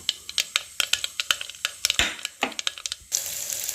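Crushed ingredients, with two dried red chillies and curry leaves, tip into hot oil where mustard seeds have popped, giving sharp crackling and spitting pops, then a louder sizzling burst and a steady hiss near the end.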